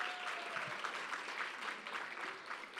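Audience applause fills a student life awards ceremony, a steady, even wash of many hands clapping that sounds somewhat distant and subdued, with no voices over it.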